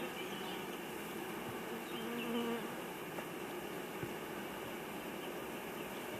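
Honeybees hum in a dense, continuous drone at an open beehive during colony treatment, steady and close with no voices over it.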